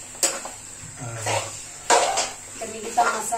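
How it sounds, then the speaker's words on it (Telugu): A metal lid is set onto a chicken curry pot in a home kitchen, producing several sharp clanks and scrapes of metal on metal, close and loud, mixed with people talking. "హ్యాపీగా మూత పెడదాం కాసేపు"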